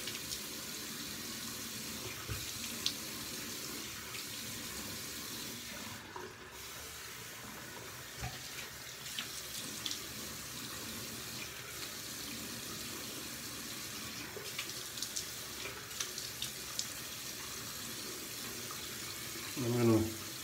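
Water runs steadily from a tap to soak a beard, a soft continuous hiss with a few faint clinks and shifts, ending in a brief louder splash.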